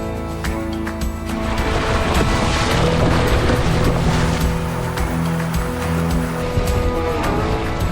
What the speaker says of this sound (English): Looks like 12 knots sustained wind, pretty choppy seas, so it should be a fun sail